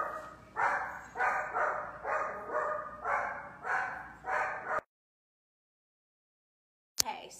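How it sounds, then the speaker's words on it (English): A dog barks at home in a steady run of about eight loud, close barks, then stops abruptly into silence before a brief clatter. "And now the dog is going to bark."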